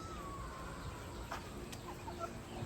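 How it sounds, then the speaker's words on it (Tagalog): Free-roaming chickens clucking among madre de agua plants, a few faint short clucks over steady outdoor background noise, with no talk. "sanay na sanay na yung ating mga manok na pagala"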